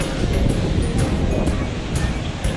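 Sea surf breaking on the sandy beach at Hua Hin, Thailand, a steady broadband wash of waves with wind buffeting the microphone, close and fairly loud, with no voices.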